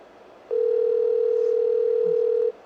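A steady single telephone tone held for about two seconds before voicemail, clear and loud, starting and stopping abruptly over faint background hiss.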